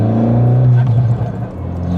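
An Abarth 595 engine hums low and steady while driving on a road in Scotland, easing off partway through. Close and fairly loud in the cabin, with someone talking over it.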